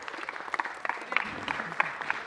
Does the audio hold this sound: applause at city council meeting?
yes